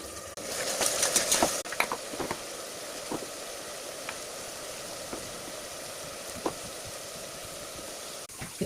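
Chopped onions fry in a pan for a mutton curry, giving off a faint, steady sizzle with a few sharper crackles and pops near the start.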